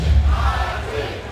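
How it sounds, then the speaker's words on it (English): A fight crowd roars wildly as a fighter walks to the cage at an MMA event, a loud dense wash of cheering and shouting from a big arena audience. "this crowd is going wild"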